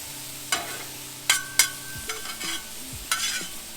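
Veggies for a chicken Philly cheesesteak sizzle in a pan, close and steady, with several sharp scrapes and taps of a spatula stirring them and a few low clunks near the end. No voices.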